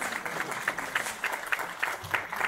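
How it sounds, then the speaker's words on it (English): Scattered applause from the audience at a hospital accreditation ceremony for St. Luke's Medical Center BGC, fairly faint and uneven, with individual claps picking out a loose rhythm over a murmuring room. "Please clap for our host."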